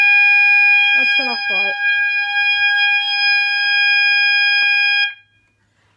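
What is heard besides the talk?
mass notification system siren like a tornado siren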